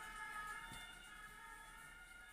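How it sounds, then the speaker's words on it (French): A faint ambulance siren passes in the distance, a sustained high wailing tone heard alone against quiet room background. "Vous avez entendu l'ambulance qui passe"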